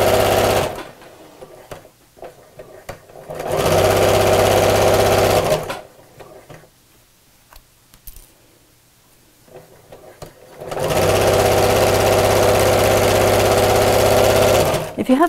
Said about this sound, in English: So let's sew across the bottom first of all.